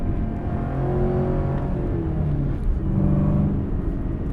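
A 2023 Chevrolet Camaro ZL1 1LE with a manual gearbox pulls hard under acceleration, its engine rising through a couple of rev sweeps in a deep, loud, close growl with no talking over it.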